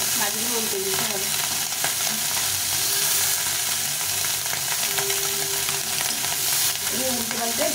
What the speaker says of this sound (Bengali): এবার উল্টে পাল্টে ভেজে নিতে হবে।